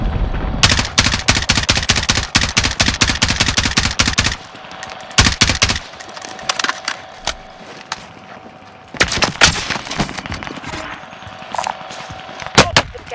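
Rapid automatic gunfire bursts from a Call of Duty Warzone match on Rebirth Island, loud and close, with dense volleys at the start and again later, separated by quieter stretches of lighter shots and game effects.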